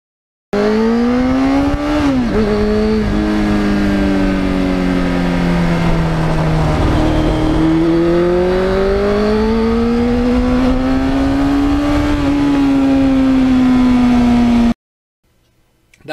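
A restored 1991 Yamaha FZR 1000 sport motorcycle without traction control pulls hard under throttle, its engine note climbing and dipping through long sustained passes, loud and close, with no one talking.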